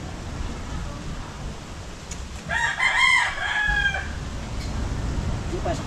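A single rooster crows once, a long harmonic cock-a-doodle-doo at moderate distance, over a steady hiss of background noise.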